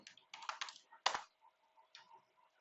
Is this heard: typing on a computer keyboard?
yes